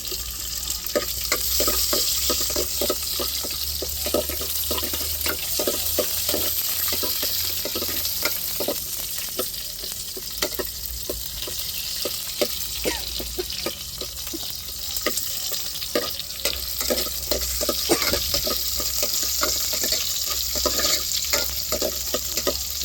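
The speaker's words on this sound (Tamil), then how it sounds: "இப்போ தாளிப்புக்கு சின்ன வெங்காயம் சேர்த்துக்கிடுவோம்." Small onions fry in hot oil as a tempering, giving a loud, continuous sizzle laced with quick, rhythmic stirring scrapes close by and no talk.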